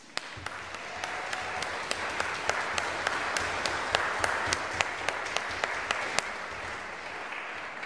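An audience applauds at a 25th-anniversary choral evensong concert with a brass ensemble, a steady, moderately distant wash of clapping with a few sharp individual claps standing out throughout.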